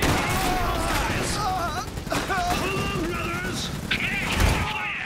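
Steady battlefield gunfire in the strategy game Iron Harvest during an assault on a train station, a constant crackle of massed shots under speaking voices and shouted orders.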